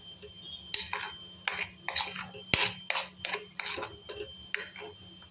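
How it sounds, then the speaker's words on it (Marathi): Coconut barfi mixture is stirred in a pan with about a dozen rhythmic scraping strokes of a spoon against metal and one sharp clink, close and clear, with no talking. "हे बघा, चांगलं असं परतत राहायचं."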